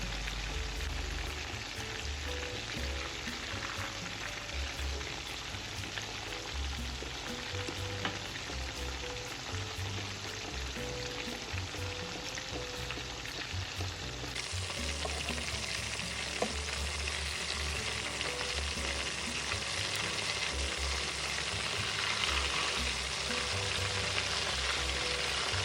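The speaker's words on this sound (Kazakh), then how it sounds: "екі жағын қызарғанша қуырамыз" Meat patties, dredged in flour, fry steadily in hot oil, giving a dense, continuous crackling sizzle that holds close and fairly loud throughout with no talking.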